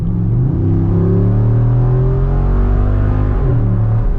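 A 2021 Jeep Wrangler Rubicon 392 engine revs hard and accelerates in a steady, loud roar, with rising harmonic sweeps as it pulls through the gears.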